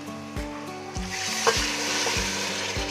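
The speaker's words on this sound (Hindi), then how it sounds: "अब मैं इसके अंदर ना यखनी डाल दूंगी जो मैंने गोश्त की निकाल के रखी है ना।" Spiced beef sizzles steadily in a pan while being stirred, with regular scraping strokes of a utensil and a rush as meat yakhni stock is poured in for beef pulao; no voices.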